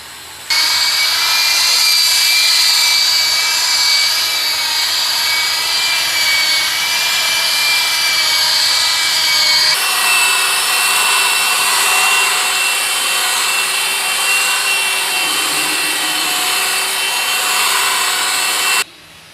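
Floor polishing machine buffing an Italian marble floor with an 8000-grit pad, a loud steady whirring grind with high whine that runs continuously and shifts slightly in tone midway.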